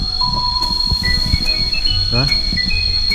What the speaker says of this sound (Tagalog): tunog ng insekto